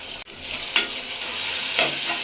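Onion sizzles steadily in oil in a pan while making wheat rava upma, with two distinct scraping strokes of a spoon stirring through it, close and fairly loud, no talk.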